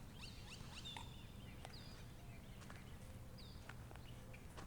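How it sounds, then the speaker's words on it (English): Coots call on a pond at Hendrix Park in Scripps Ranch, San Diego, giving scattered short sharp notes and squeaks at moderate distance over steady outdoor background noise, with no talking. "The coots are making such funny noises."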